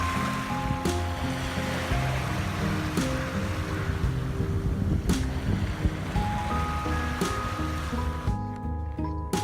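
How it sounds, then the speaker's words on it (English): Small waves lap softly onto sand at the water's edge of a Vancouver shoreline, a steady continuous wash with a faint tonal hum running beneath it. "listen to the waves slap softly onto the sand."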